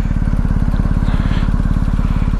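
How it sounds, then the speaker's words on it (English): BMW R1250 GS motorcycle engine running at idle, a loud close rapid even thrumming pulse that holds steady throughout the short stretch. "I'm gonna start the bike back up. Turn the bike on. Kick her in."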